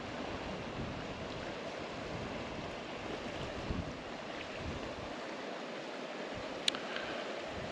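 Steady wind blowing across open ground in Glen Clova, a Scottish glen, on a damp, overcast day, with continuous broadband rushing and buffeting against the microphone, fairly loud and unbroken.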